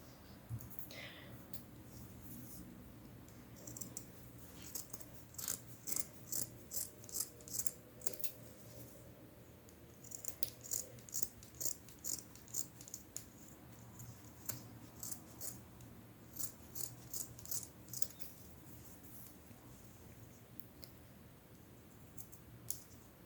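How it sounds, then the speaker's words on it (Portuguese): Scissors snip through leftover fabric on a sewn whale plush toy, a run of quick close cuts in bursts over a low background hum. "aqui eu vou cortar a minha sobra"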